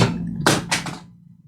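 A mobile phone drops and hits a hard surface indoors: a soft thud, then a sharp clattering impact and a short second rattle as it settles, with a low hum underneath.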